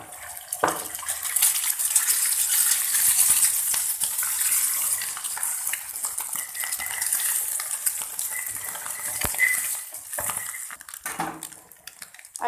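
An egg lands in a hot pan of oil with garlic already fried golden brown, setting off a loud, steady hiss and sizzle that holds for several seconds, with a few faint scrapes and clinks.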